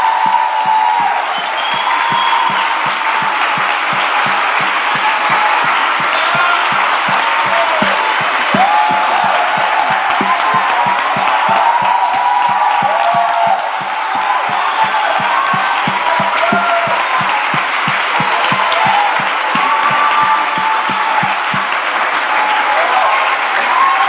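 A church congregation at a celebration service applauds, with sustained dense clapping that is loud and close and continues for more than twenty seconds, along with faint crowd voices in the background.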